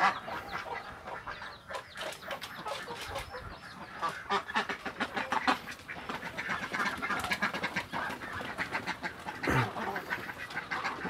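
A pen of laying ducks, some molting, kept for egg hatching, fills the air with dense, continuous overlapping quacks and honks from many birds at close range, steady and loud throughout.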